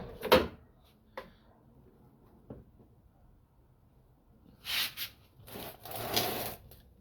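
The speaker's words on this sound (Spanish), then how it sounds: "Ok, vamos a probar la puerta." A repaired loose door that would not stay in place is tested: a sharp knock, a few faint clicks and creaks, then scraping swings and a thud near the end, fairly close and quiet.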